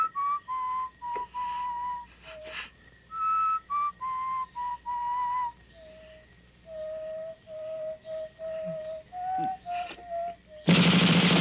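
Melodic human whistling in an action film scene: a long series of clear, sustained notes with small pitch shifts, fairly close and prominent, ending abruptly in a sudden burst of loud noise.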